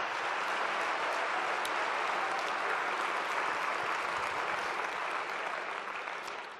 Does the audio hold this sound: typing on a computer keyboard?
no